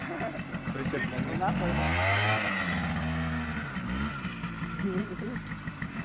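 A 200 cc motorcycle engine runs nearby, its throaty idle rising and falling as the throttle is blipped, while people chat over it.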